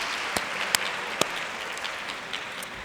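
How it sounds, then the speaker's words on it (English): Applause from an event audience for the emcee at a corporate strategy gathering, a faint, steady patter of many hands with a few sharper claps standing out, lasting throughout without talk. "how about a round of applause for Abdulla for his emceeing."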